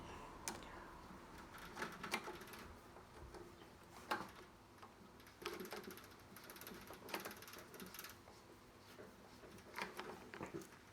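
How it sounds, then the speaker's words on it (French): Small screws are turned by hand into the choke of a brush cutter carburettor, making faint, irregular ticks and ratchety clicks spread across a quiet workbench background. "Vous allez d'abord passer les vis dans le starter. Vous allez commencer à visser un tout petit peu, mais pas trop."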